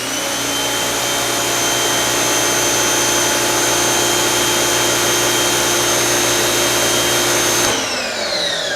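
An Active 2.0 pressure washer runs at a loud, constant whine with a steady tonal hum and broad hiss, then cuts off abruptly near the end, with no voices.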